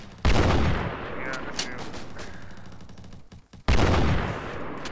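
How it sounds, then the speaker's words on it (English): Loud, sharp gunshots from a sniper rifle in an online shooter game: a heavy blast near the start and another near the end, each trailing off, with a brief dip of near-silence between them. "I shot him 3 times with this sniper"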